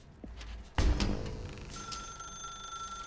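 Telephone ringing in The Stanley Parable video game, a sharp bell-like ring that starts after a soft thump and sustains its bright tones, fairly faint, with no talking.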